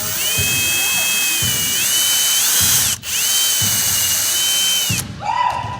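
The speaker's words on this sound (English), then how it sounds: "We're going to take a drill and we're going to drill on that hole." Power drill boring a hole in plywood for teardrop camper walls, a close, loud whine that steps up and down in pitch, with a brief pause midway before it winds down and stops.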